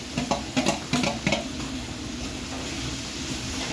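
Grated coconut stirred into frying masala for a fish curry, a few scraping strokes of a spoon in a pan over a low steady sizzle, close and moderately loud, with no talk.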